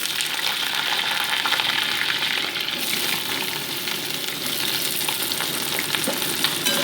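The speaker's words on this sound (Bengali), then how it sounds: "এবার আমি প্রথমে আলু টুকরোগুলো তেলের উপর দিয়ে দিচ্ছি।" Potato pieces fry in hot mustard oil in a kadai, giving a loud, steady, close sizzle with dense crackling that runs unbroken for the whole stretch, with no voices.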